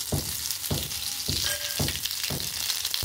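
Ingredients hitting smoking-hot oil for chicken pickle, a loud, dense sizzle with rhythmic bursts of stirring or tossing roughly every half second.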